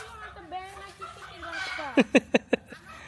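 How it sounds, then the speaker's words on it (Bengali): Outdoors on farmland, someone talks, then a chicken gives a quick run of four loud, clipped clucks close by. "বাবা মুরগি কিভাবে ডাকছে?"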